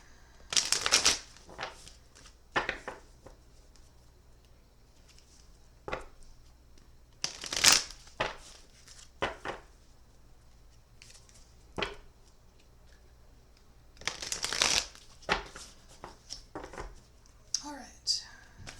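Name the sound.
shuffling a deck of cards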